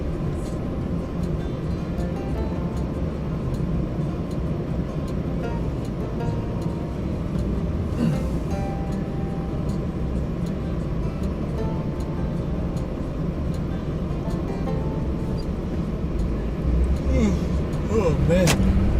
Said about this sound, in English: Driving this big old truck around the city is